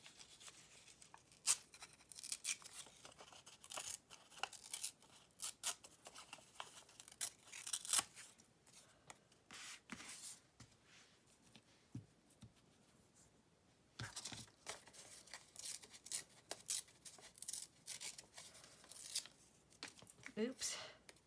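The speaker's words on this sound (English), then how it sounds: "Now I'll just tear those out." Paper strips torn out of a craft project, a run of repeated rough ripping and crinkling bursts with brief pauses, close and moderately loud over a long stretch.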